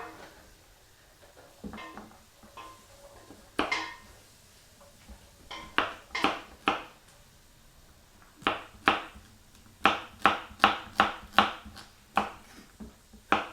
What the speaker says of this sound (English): Keep chopping the other carrots.